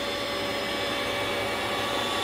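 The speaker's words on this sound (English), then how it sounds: "Okay, the vacuum is on, the CNC is rolling." A shop vacuum runs as the dust collector on a CNC machine fitted with a 3D-printed cyclone, giving a loud, steady, unbroken whine with a constant drone.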